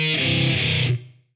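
A short distorted electric guitar riff played through a Line 6 Helix without harmony, a dense crunchy burst lasting under a second before cutting off and ringing out briefly.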